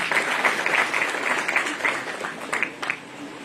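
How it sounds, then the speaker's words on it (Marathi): Audience applause at a public health event on thalassemia in Chhatrapati Sambhajinagar, steady dense clapping filling the hall for a welcomed speaker, fairly loud and continuous before easing slightly at the end. "टाळ्या वाजवून आपण त्यांचं स्वागत करूया"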